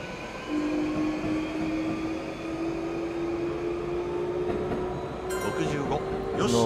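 A Keihin-Tohoku Line electric train runs in the PS4 simulator Densha de Go: a steady motor hum carries a slowly rising whine for several seconds, then quick clicking and chiming sounds rise near the end.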